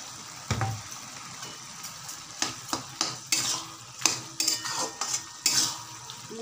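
Fried mung dal, just seasoned with cumin powder, is stirred into a pan with a utensil: irregular scrapes and clinks against the metal come in quick bursts over a faint background sizzle, with no talking.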